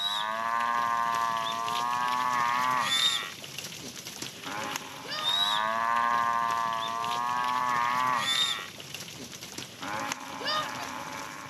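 A village cattle herd in Oshomuchira lows with long, drawn-out moos, two loud calls separated by brief pauses, close by and with no talk over them.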